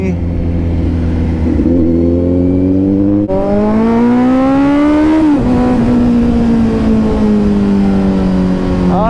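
Kawasaki Z900 superbike engine droning steadily while riding on a road, its pitch rising and falling with throttle changes, loud and close throughout.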